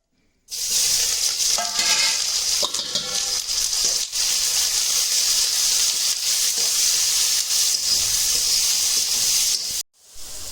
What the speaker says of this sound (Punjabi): ਆਪਾਂ ਪਿਆਜ਼ਾਂ ਨੂੰ ਆਪਾਂ ਇਹਨਾਂ ਦੇ ਵਿੱਚ ਪਾਵਾਂਗੇ ਪਹਿਲਾਂ ਪਿਆਜ਼ਾਂ ਨੂੰ ਭੁੰਨਾਂਗੇ